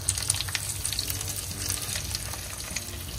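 Surmai (kingfish) fish frying in a pan in Konkani style: a constant close, crackling oil sizzle with scattered pops and spits, steady throughout and unaccompanied by speech.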